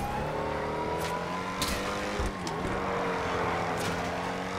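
A fast car in Grand Theft Auto V roars along at a steady high pitch, a continuous close engine drone with a few brief sharp noises over it.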